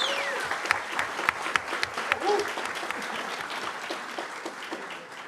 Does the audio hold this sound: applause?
yes